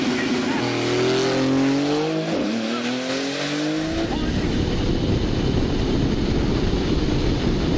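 Video game race cars roar close by; one of the cars is rated at 1200 horsepower. The engines whine in rising and falling tones, then give way to a steady loud rushing roar.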